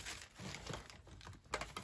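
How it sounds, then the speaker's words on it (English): A plastic bag holding old baby dolls is shifted and crinkles softly nearby in brief rustling bursts, quiet and without talk. "What I've done is just move the bag."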